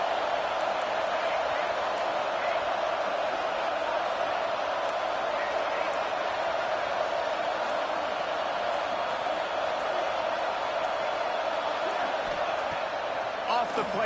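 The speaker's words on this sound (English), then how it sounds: "how nice is it to have the home crowd going absolutely bananas" Home crowd at a football game roaring loudly and without a break, a thick, even din of many voices filling the stands throughout.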